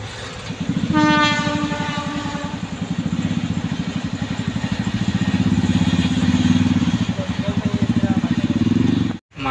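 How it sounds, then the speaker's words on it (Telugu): A goods train rolls past a railway level crossing, its horn sounding at the start, then a long steady rhythmic clatter of wagons over the rails, close and loud, ending abruptly. "ఇందాక ప్యాసింజర్లు తప్పితే ఇప్పుడు గూడ్స్ అయితే వచ్చింది."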